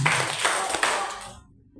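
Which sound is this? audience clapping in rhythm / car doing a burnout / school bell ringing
audience clapping in rhythm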